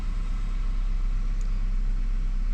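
A 2014 Chevrolet Malibu with the 2.5 liter engine idles steadily just after starting, a close, even low rumble with no speech.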